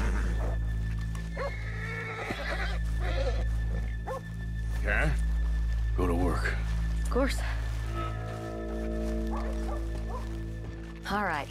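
Horses neigh a few times in Red Dead Redemption 2, short whinnies rising over game ambience and low background voices in the town of Valentine.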